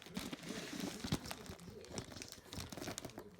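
A package holding a Coby CX-WB15AC radio is unwrapped, with steady close crinkling and crumpling of packaging, some tearing and small crunches, and no talk.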